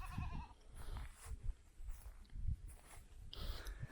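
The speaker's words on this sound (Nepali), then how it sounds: "यता बाख्रा पनि रहेछ।" Goats bleat on a village farm in Phirphire, Tanahun, Nepal, with a few wavering calls near the start and another near the end over steady outdoor rustle and footsteps.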